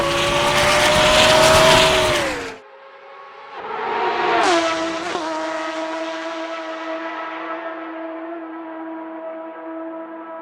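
A McLaren Senna GTR race car in the rFactor 2 sim screams at high revs, cuts out abruptly, then roars back with a sharp gear change before settling into a steady, slowly fading engine drone.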